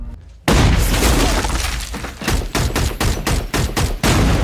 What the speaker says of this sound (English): He fired but missed, she shot back